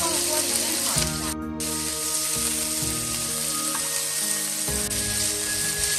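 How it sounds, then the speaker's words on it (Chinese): Pork sizzles in hot cooking oil in a wok, a steady bright frying hiss running throughout beneath background music. "把肉放入锅里煸炒一下"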